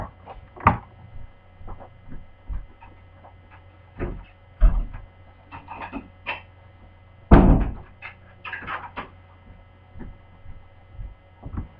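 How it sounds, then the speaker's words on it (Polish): A door being closed in an indoor room, heard as a few dull thuds and a heavier thunk among scattered rustles over a steady mains hum, with no talk. "ja zamknę drzwi i zaraz wracam do Was"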